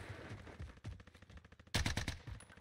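Bursts of automatic fire from a C58 rifle in a Warzone match, several rapid volleys with a loud, dense burst near the end, close and punchy.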